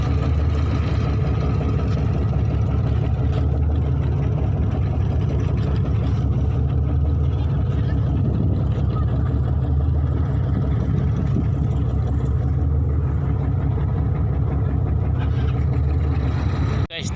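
A speedboat pulls away from Kasipute harbour bound for Sikeli harbour, its engine a steady, loud, low droning rumble that holds unbroken throughout, heard close up from on board.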